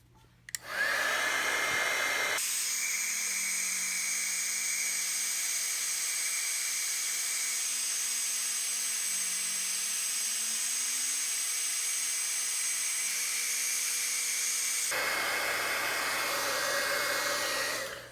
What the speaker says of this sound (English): And then I'm just going to heat set this with my heat tool